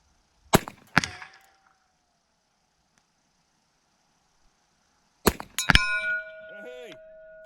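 Rounds from a Ruger Blackhawk revolver in 45 ACP strike a steel target at 50 yards: two sharp shots with a ringing metallic ping, a quiet gap, then two more shots and a longer, sustained clang that fades out.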